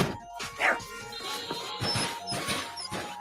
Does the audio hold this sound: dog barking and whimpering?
yes